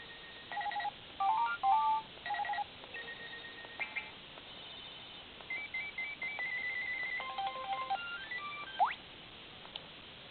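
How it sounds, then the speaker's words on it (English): A Hasbro ChatNow toy phone plays a string of short electronic ringtone melodies, bright beeping tones in several different patterns separated by brief pauses, close and fairly quiet with no talking. "you can set the ringtone to different rings, and you can hear that right now."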